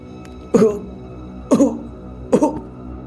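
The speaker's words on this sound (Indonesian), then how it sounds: "Bima mulai terbatuk-batuk sambil memegangi perutnya" Three harsh, evenly spaced coughs, each about a second apart, sound close and clear over a low background hum.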